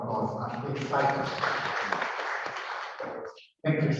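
Applause at the Internet Society Zambia Chapter launch event, with steady clapping from the audience continuing for several seconds, dipping briefly to silence and then swelling again.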